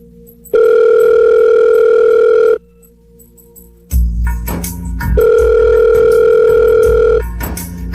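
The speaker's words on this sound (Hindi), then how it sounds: "अभी फोन करके पूछती हूँ कि ठीक ठाक घर पहुँच गया" Telephone tones on an outgoing phone call: two long, loud steady tones about two seconds each, separated by a quiet pause, with a burst of clattering handset noise before the second tone.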